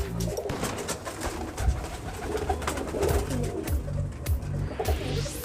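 Pigeons, including Rampuri pigeons, coo repeatedly nearby, soft throaty calls overlapping in an uneven rhythm over a busy background of fluttering and rustling.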